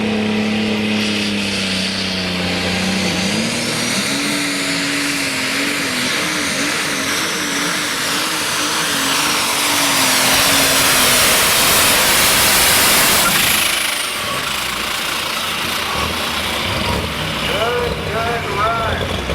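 A pulling tractor at a tractor pull roars loudly and continuously, its engine pitch rising and wavering as it revs, with a crowd or announcer voice faintly mixed in.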